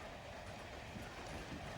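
A train rolls along the rails, heard from inside the carriage as a soft, steady rumble with faint rhythmic clatter, low and continuous under a quiet interior.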